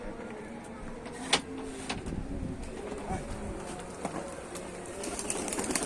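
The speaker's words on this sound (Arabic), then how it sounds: "الحمام اشتغل، ما تخليش الحمام يشتغل" Domestic pigeons flying and cooing over Tanta, Egypt, with soft coos and light wing flutters against steady outdoor background noise, one sharper flap standing out.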